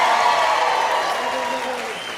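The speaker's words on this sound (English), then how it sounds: "Not everyone claps." Applause from a comedy show audience fills the room as a dense, steady clapping that tapers slightly over a couple of seconds, with no speech over it.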